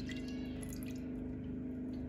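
Soy sauce poured into a pan of water for teriyaki sauce, an even close liquid stream with light dripping, steady throughout and with no voices.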